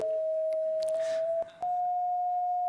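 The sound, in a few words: electronic eye sensor tone representing the color of grass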